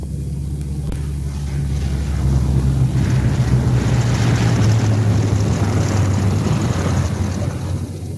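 A B-17 Flying Fortress bomber comes in to land with its left inboard engine dead, its remaining piston engines and propellers droning loud and steady, swelling slightly as it nears.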